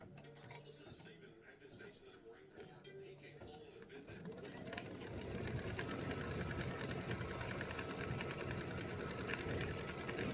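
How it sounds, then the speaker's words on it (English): An embroidery machine stitching an in-the-hoop mug rug design hums and ticks rapidly, growing louder and busier partway through, heard up close. "This is actually starting the actual embroidery design in the center."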